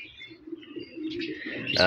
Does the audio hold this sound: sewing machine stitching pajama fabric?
no